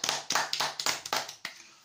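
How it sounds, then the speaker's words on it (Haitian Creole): A short round of applause from a church congregation, a dozen or so sharp, uneven clap bursts over about two seconds, moderately close and fading out, with no talking. "Gros applaudissement pour frère Jean Roosevelt"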